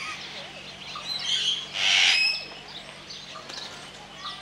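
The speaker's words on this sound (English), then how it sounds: "black cockatoo." A black cockatoo calls at a zoo among other birds: a few mid-distance squawks and chirps, one louder harsh call in the middle, over faint background murmur and distant voices.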